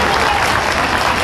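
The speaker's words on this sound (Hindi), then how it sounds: "जोरदार ताली बजाएं इनके लिए।" A crowd claps loudly and densely at a Hindi-speaking gathering, a short burst of sustained applause heard close.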